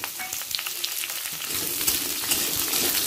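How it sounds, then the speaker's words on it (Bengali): Potatoes frying in oil with panch phoron and a dried red chilli, a steady close sizzle that swells louder and denser halfway through, with light stirring scrapes and no talking. "আলুটা হালকা লাল করে ভেজে নেব"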